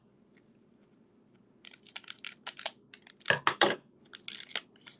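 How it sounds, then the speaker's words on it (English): Scissors snip and cut open a Pokémon trading card pack, a run of short crisp cutting and crinkling bursts that build to a louder ripping stretch near the end, close and with no talking. "Get some scissors here."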